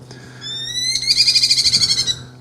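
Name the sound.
call of a Merlin falcon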